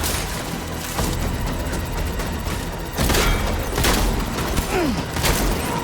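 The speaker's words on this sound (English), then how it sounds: "These guys just take a lot of shots from the shotgun." Shotgun blasts in Death Stranding, several heavy booming shots spaced a second or two apart, loud against a constant din of combat noise.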